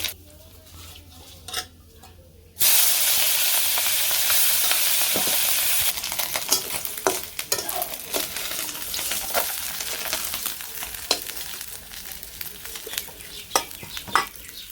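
Quiet clinks, then a sudden loud sizzle of fish frying in hot oil that settles into steady crackling with stirring and scraping of a pan.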